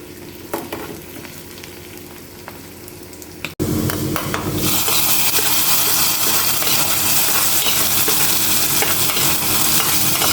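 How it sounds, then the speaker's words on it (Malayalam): Quiet kitchen stirring, then a sudden loud burst of sizzling that stays as a strong continuous hiss after hot oil with fried shallots and curry leaves is poured into a dried shark curry. "ഇനി ഈ ഉള്ളി നല്ലോണം മൂത്തതിന് ശേഷം കറിയിലേക്ക് ഒഴിച്ചു കൊടുക്കാം"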